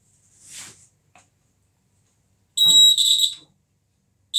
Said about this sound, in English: you see that the buzzer is hooting